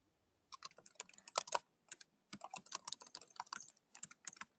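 Someone types on a computer keyboard in bursts of quick, light key clicks with short pauses between them, faint and close, with no voices.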